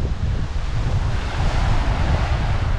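A rough sea churns, a loud, continuous roar of waves and surf mixed with wind rumbling across the microphone, no voices.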